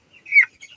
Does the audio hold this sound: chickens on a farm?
yes